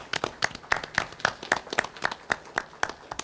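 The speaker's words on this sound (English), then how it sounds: "Let's give them a big round of applause for their great work in our community." Scattered clapping from a small group at a town meeting, sparse and uneven individual claps rather than a full ovation, fairly quiet and close.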